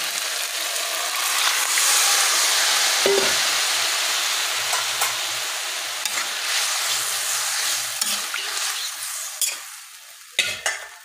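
Boiled taro and cauliflower sizzling steadily in a hot pan while being stirred, with scraping and clinking from the utensil near the end, loud and close with no talk.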